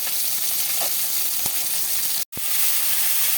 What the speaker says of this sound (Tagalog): dito napagisa na tayo ng sibuyas, bawang, kamatis, saka ng luya